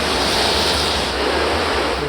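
The Bogotá River, swollen by heavy winter rain upstream, rushes in flood with a constant loud roar of churning water and some wind, without voices.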